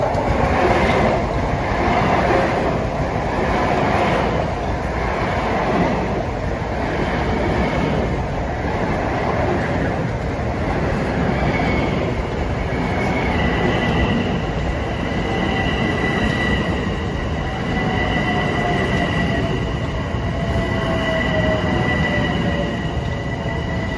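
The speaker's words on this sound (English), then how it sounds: "here comes train 2063 en route from Ronkonkoma to Grand Central Terminal, coming in with a 12-car train" LIRR 12-car commuter train of MU cars pulling into Farmingdale station during evening rush hour, loud steady rumble of wheels on rails with clattering joints and rising high squeals of braking wheels as it slows.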